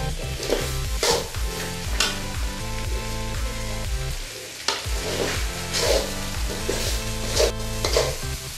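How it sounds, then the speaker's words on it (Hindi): Leftover food is stirred in a hot pan, a spoon scraping and knocking in a steady rhythm over a constant close sizzle, loud and with no talking. "धीरे धीरे हिलाते रहना है करीब 2 से 3 मिनट तक"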